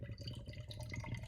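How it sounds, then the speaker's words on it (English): IPA beer is poured into a glass, a quiet, close gurgling and trickling stream with no talk. "So let's get this poured."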